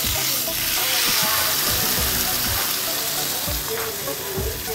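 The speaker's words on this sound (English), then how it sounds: "So we gonna fry that steak, you know what I'm saying, to our desired texture" Steak crackles and hisses steadily in a hot pan, a loud continuous sizzle with occasional low knocks and faint background voices.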